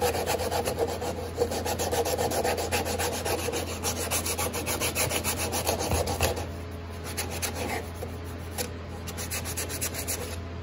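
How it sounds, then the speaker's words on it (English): Sandpaper rubs back and forth on a wooden ukulele neck as it is shaped, a close, steady rasping stroke that repeats quickly throughout and eases slightly in the latter half, with no talking. "And even take the sandpaper."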